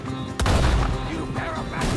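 A sudden volley of gunfire erupts in a Red Dead Redemption 2 shootout, loud and close, breaking out after a brief quiet and carrying on as a rough, crashing barrage.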